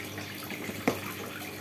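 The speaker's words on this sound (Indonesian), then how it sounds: "ini udah saya siram-siram dulu" Water splashing over laundry during hand washing of clothes beside a fish pond, a soft running wash with one brief sharper splash partway through, no talk.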